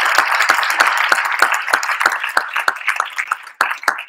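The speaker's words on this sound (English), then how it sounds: "I'd like to give a huge round of applause for all of our volunteers and our sponsors for this event." An audience at a university Three Minute Thesis championship event claps for volunteers and sponsors, a dense, bright patter of many hands, steady and fairly close, thinning slightly toward the end.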